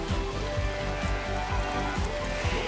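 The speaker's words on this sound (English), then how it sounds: "Started raining though." Steady patter of rain in the video game Astro's Playroom, a constant soft hiss of drops with low rhythmic game music pulsing underneath, no talking.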